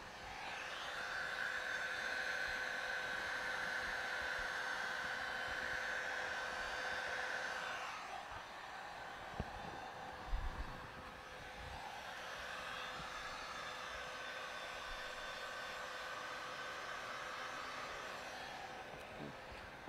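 A heat gun blows hot air over paint protection film on a car, a steady loud whooshing hum that runs for several seconds, then cuts off, followed by a few small knocks before the blowing resumes at a lower level.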